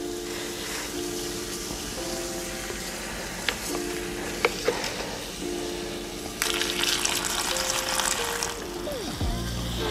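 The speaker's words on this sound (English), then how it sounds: "pour a little water, and watch how it produces the acetylene gas" Continuous fizzing and hissing of pellets bubbling in water and releasing acetylene gas, close by, with a few faint clinks and tonal hums in the background.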